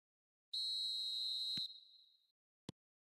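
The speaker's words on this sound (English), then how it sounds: "Whistle goes, and we start the second half." A referee's whistle in a football video game blows one long, loud, steady shrill blast that trails off, then a single short knock a second later.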